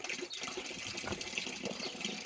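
Cold water pouring steadily from a village fountain, a continuous splashing gush that runs close by, with no speech over it.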